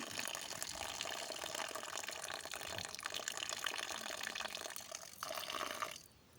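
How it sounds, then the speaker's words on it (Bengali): Water pours in a continuous splashing stream into a bowl of bael pulp and jaggery batasha for a Ramadan sharbat, then stops abruptly near the end. "এখানে কিছু পানি আমি অ্যাড করে দিচ্ছি"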